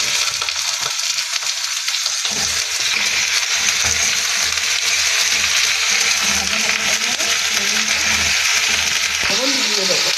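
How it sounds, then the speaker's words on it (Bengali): Eggplant frying in a pan with onion and green chili, a steady close sizzle with stirring scrapes throughout, loud and continuous, with a voice speaking faintly in places. "এবারে দিয়ে দেবো বেগুন।"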